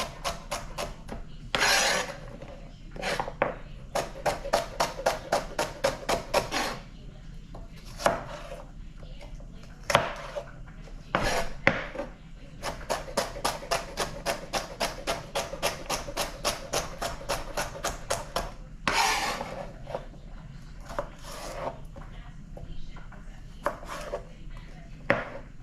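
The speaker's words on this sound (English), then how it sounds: "So cut my celery down." Celery being chopped on a cutting board, rapid rhythmic knife strikes in long bursts with short pauses between runs, close and clear with no talking.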